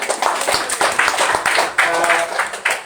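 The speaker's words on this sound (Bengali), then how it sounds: "আসুন সবার জন্য আমরা একটা জোরে হাততালি দেই না?" Scattered clapping from a small group at a prayer seminar, uneven bursts of hands with some talk mixed in.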